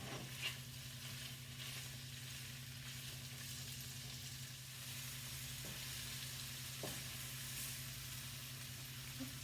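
Chicken frying in a pan for pad thai makes a continuous soft sizzle throughout, with a low steady hum underneath and a couple of faint clicks.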